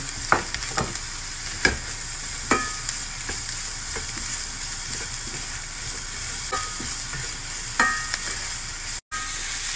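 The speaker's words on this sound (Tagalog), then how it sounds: "igisa na natin yung mushroom. Hayaan na magiging golden brown din ang mushroom" Garlic and mushrooms sautéing in a pan for fettuccine Alfredo, a continuous close sizzle broken by irregular clicks and scrapes of a stirring utensil, with one brief dropout near the end and no talking.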